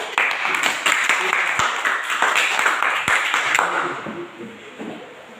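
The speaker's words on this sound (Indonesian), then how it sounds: "Oke, tepuk tangan untuk" A classroom of students claps together in a lesson, a dense burst of individual hand claps that holds steady for several seconds before thinning out and fading.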